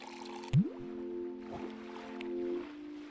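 Watering a plant in the video game Grow On The Go: a short, bright liquid splash and rising pour tone over steady humming game music, with faint soft effects afterward.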